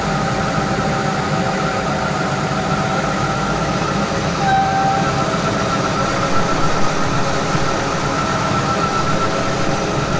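Farm tractor pulling a feed wagon, its engine running steadily at close range with a continuous low rumble and drone throughout, no voices.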